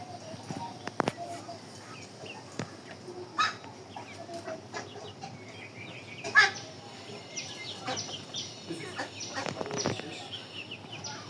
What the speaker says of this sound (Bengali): মুরগির পানি দিই, সে পানিগুলো খেয়ে ফেলে।